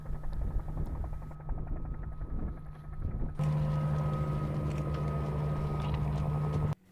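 A helicopter rounds up wild mustangs in a steady, droning flyover, first distant and then louder and nearer, with a sustained hum and rotor thrum before it cuts off abruptly.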